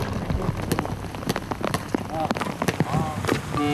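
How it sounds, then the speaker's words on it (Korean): Rain pattering steadily at an outdoor summer camp in Korea, a dense, close hiss of drops hitting surfaces throughout, with people's voices mixed in over it. "말씀하신 대로 이렇게 비가 오네. 아, 비가 온다."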